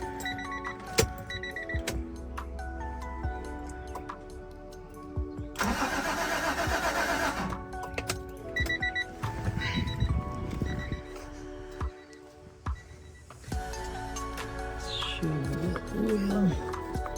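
The engine of a fully restored Acura Legend cranks and catches on its very first start, with bursts of starter and engine noise between quieter pauses, and a voice faintly present.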